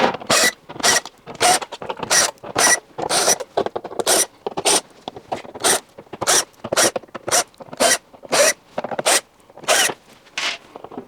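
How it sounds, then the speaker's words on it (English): Screws are backed out of the steel heating panel on a Beko condenser tumble dryer, a run of about twenty sharp, evenly paced ratcheting bursts, close and loud with brief gaps between them. "Remove all the screws from the heating panel at the back."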